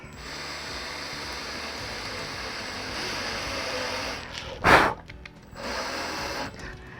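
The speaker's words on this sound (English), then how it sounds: "I'm going to put some more screws in to hold these four corners in place." A power drill drives self-tapping screws into the corners of a homemade oven hot box: a steady whirring hum runs throughout, broken by one short, louder grinding burst near the end.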